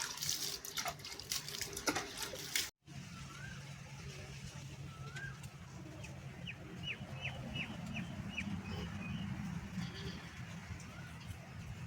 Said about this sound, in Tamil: விதை போட்டு தண்ணியை வந்து நாங்கள் தெளிக்கிறோங்க.